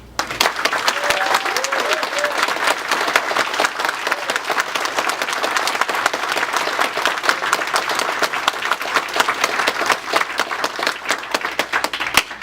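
Sustained applause from a large town hall audience in Chattanooga, voting yes on whether Volkswagen plant workers should unionize; dense, loud, continuous clapping fills the room for the whole stretch.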